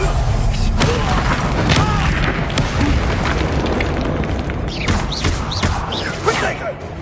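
Expulso explosion spell going off in Hogwarts Legacy on PS5, a dense, loud, continuous rumble of blasts and impact booms with bright magical crackles and swooshes layered over a low roar.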